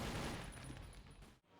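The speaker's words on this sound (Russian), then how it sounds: "Да, это обычно дробовик, но он может выстрелить сразу 2 патрона." A double-barrel shotgun fires in a first-person video game with destructible surroundings. The blasts are faint and merged into a dense, continuous rumble of gunfire and debris that fades out briefly near the end.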